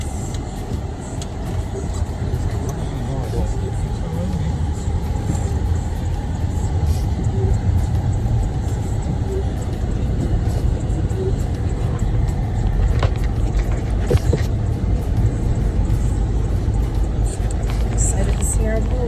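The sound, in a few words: car driving on a road in Jamaica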